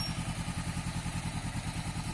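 A motorcycle brakes while turning during rider training, and its engine runs at a steady mid-pitched pulse with rhythmic thumping throughout, close and fairly loud.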